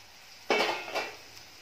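A lid is set back onto a cooking pan of chili bharit, giving a sharp metallic clank followed by a softer second knock, close and brief.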